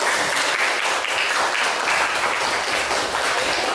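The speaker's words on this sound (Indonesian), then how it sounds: "berikan tepuk tangan" A classroom of students applauds together, dense and loud continuous clapping filling the room evenly from start to finish, with no talking over it.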